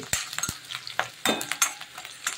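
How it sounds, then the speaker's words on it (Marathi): Green chillies fry in hot oil in a pan, a steady close sizzle broken by sharp clicks and scrapes as a utensil stirs them, with the stirring strokes spaced unevenly across the pan. "आता बघा हिरवी मिरची अशी तेलामध्ये छान होऊ द्यायची, कच्ची नाही राहू द्यायची"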